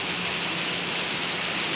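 Heavy monsoon rain pours steadily in Nashik, a dense, even hiss of downpour close by with no break and no voices over its short span.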